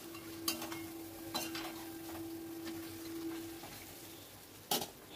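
A spoon stirs meat cooking in a pot over a medium-low flame, giving a few sharp metallic clinks and scrapes against the pot over a faint sizzle and a steady low hum.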